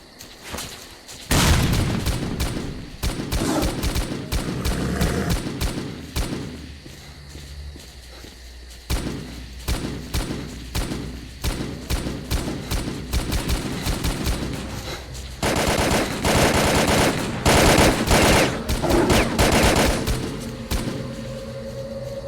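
Gunfire in the video game Stalker: Call of Pripyat, bursts of automatic shots and single cracks spread across the clip, loud and close, with footsteps and heavier booms mixed between the firing.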